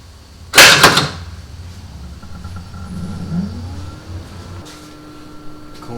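A Tesla frunk lid fitted with a Satonic V2 soft closer gives one sharp loud thud, and then the closer motor hums softly and rises in pitch for a few seconds in a quiet space with no voices.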